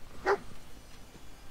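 Dog barking in the video game Fallout 4, a single short sharp bark early on, moderately near, followed by quiet ambient background.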